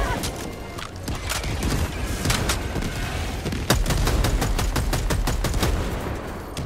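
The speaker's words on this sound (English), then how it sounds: "Watch out, I got a machine gun." Machine gun fire in Helldivers 2 on a bug planet: a dense, continuous stream of rapid automatic shots with booming impacts layered underneath, loud and close throughout.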